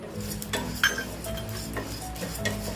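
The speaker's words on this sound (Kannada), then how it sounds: "ಅದಕ್ಕೆ ಜೀರಿಗೆ ಮತ್ತೆ ಕಾಳುಮೆಣಸನ್ನ ಆ್ಯಡ್ ಮಾಡ್ಕೊತಾ ಇದ್ದೀನಿ" Cumin seeds and black pepper are dry-roasted in a pan along with coriander seeds. A utensil scrapes and clinks against the metal pan in close, irregular strokes over a faint sizzle, with no one talking.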